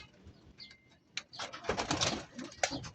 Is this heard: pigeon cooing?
yes